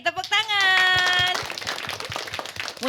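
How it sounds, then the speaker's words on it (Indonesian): Children clapping hands at an Indonesian primary school gathering, a rhythmic run of sharp claps heard under a voice calling out, with sustained cheering at the start. "Yeay, tepuk tangan."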